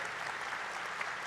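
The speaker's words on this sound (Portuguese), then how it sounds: "Bom, palmas." Faint, steady applause from a seated audience at a panel discussion on impact entrepreneurship, a short even wash of clapping heard from a distance.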